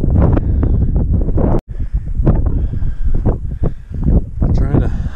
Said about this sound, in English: The wind is just ridiculous up here. Just blowing like crazy